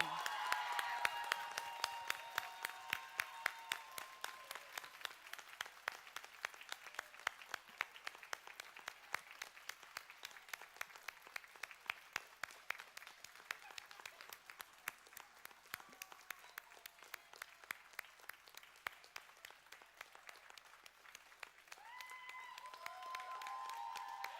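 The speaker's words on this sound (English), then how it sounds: "Round of applause, ladies and gentlemen." A crowd at a convention closing ceremony applauds in a long, rhythmic unison clap, steady repeated beats carrying on for over twenty seconds, fairly faint and distant, with brief cheering voices near the start and end.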